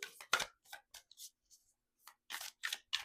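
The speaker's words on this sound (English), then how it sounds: "These cards are so thick, it's kind of hard to shuffle" Several bursts of stiff, thick cards, likely tarot or oracle cards, being shuffled, crisp riffling snaps separated by short pauses, close and fairly quiet.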